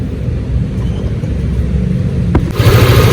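Yamaha Lexi scooter, fault codes 12 and 46, idling in a workshop with a steady mid-pitched engine hum and low rumble, slightly louder near the end; no talk.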